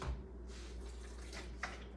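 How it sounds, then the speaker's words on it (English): Water trickles into a container of sea moss gel, a faint, soft pouring and splashing with a small drip-like burst near the end. "just a little bit more water"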